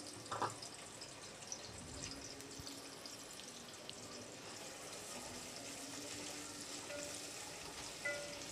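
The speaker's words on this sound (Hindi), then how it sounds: "प्याज को अच्छे से फ्राई करके लेना है" Onions frying in hot oil for a dudhi dal with masoor and chana dal: a steady, faint sizzle and hiss runs throughout, with a few light clinks.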